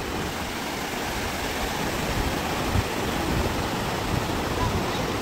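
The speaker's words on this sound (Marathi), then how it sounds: "ह्या नदीचं नाव काय भोगावती नदी." Water of the Bhogavati river stream rushes steadily in a continuous broadband wash, close and constant, with no voices over it.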